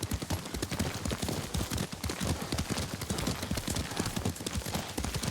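Rapid, rhythmic clip-clop of horse hooves at a steady gallop in the video game Ghost of Tsushima, close and continuous, with faint background ambience.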